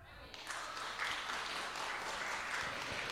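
An audience applauds steadily in a dense, continuous wash of clapping that swells after a brief quieter start and holds at an even level throughout.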